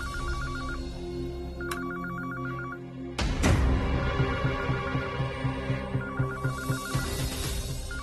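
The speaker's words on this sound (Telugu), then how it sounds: "హాల్లో ఫోన్ రింగ్ అవుతుంది" A telephone rings in short repeated electronic trills in a TV drama scene, the bursts recurring through the clip. A sudden dramatic music sting and low throbbing drone come in partway through and continue under the ringing.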